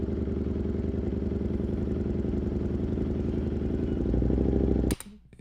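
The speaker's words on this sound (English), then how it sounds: "So you can hear a bunch more of like the engine, right, when you're at a standstill." A vehicle engine idling while stopped at a traffic light, a steady rhythmic clattering rumble that holds evenly, swells slightly near the end, then cuts off abruptly.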